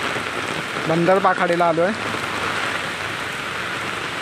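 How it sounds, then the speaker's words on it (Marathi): Heavy rain pouring outdoors on a street in Kandivali West, Mumbai, a steady dense hiss throughout, with someone speaking briefly over it partway through. "तुम्ही बघू शकता पाऊस पण खूप पडतो"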